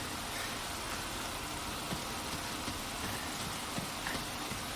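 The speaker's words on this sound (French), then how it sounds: "je pense que c'est la pluie là par contre" Rain falls in Resident Evil 4, a soft, even hiss with scattered patters that stays faint and constant throughout, with no voices.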